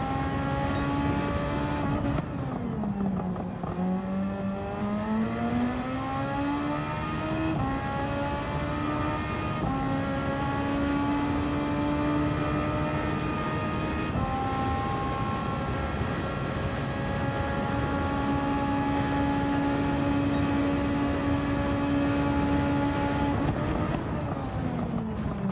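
Super Formula race car engine in Gran Turismo 7 revving loudly and steadily throughout, pitch rising and dropping with throttle changes and gear shifts, a continuous high-pitched open-wheel engine whine with no talk.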